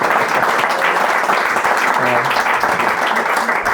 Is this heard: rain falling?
no